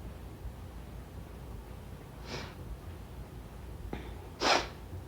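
A couple of short, breathy sniffs through the nose, close and fairly quiet, over a faint steady background hiss.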